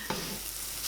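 Halloumi cheese stirred in a frying pan, a soft scrape of the utensil near the start over a steady close sizzle that runs through the brief moment.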